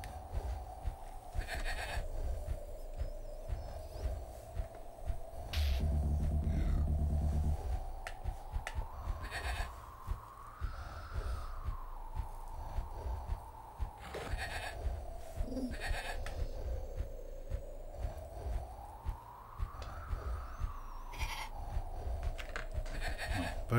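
Sheep bleating in the Amiga strategy game Powermonger, a steady wavering tone rising and falling over a background music bed, with a few short clicks and a brief louder thump partway through.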